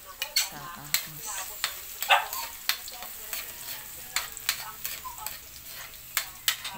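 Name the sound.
sautéing garlic in a pan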